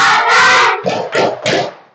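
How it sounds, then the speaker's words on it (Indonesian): Children in an Indonesian classroom perform a patterned group clap chant, a drawn-out shouted opening followed by three sharp, close bursts of clapping and voices in quick rhythm. "Kita tepuk P5 dulu."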